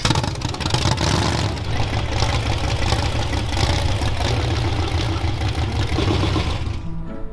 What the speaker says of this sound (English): as you heard, the motor has something wrong